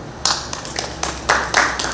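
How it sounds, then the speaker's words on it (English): A women's group audience at a morning meeting claps in a few scattered, uneven bursts, each a short patter of hands rather than sustained applause. "we want our senior members to also give yourself a round of applause for being here this morning"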